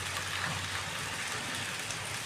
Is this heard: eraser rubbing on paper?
no